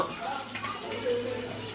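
Fish frying in a pan at a family home before a riverside outing, giving a faint, steady sizzle with light stirring and water-like hiss, low and continuous throughout.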